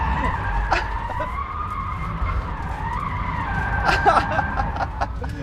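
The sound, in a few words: Rimac Nevera electric car drifting with tires skidding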